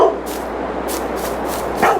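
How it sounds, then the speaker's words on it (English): A small dog barks in Farming Simulator 22 on the Szpakowo map, a few soft yips spaced over a steady game ambience, the clearest one near the end. "A little dog over here barking."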